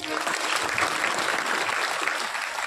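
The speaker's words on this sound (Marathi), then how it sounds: "महिला मंडळ यांच्यासाठी एकदा टाळी वाजवा." An audience at a Marathi kirtan gathering claps for a women's group. The dense, steady applause is loud and continuous throughout the short stretch, with no voices rising above it.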